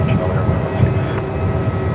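Airliner engine noise at Melbourne Airport, a steady broad rumble holding for the whole stretch with people talking over it.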